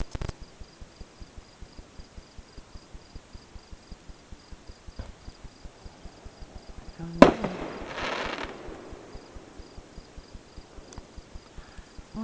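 Fourth of July fireworks go off in a holler: one distant boom bursts into a crackling tail, set against a steady, rhythmic chirping of night insects.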